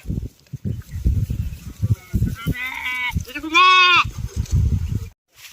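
A sheep bleats twice in drawn-out, wavering calls amid shuffling and low background noise.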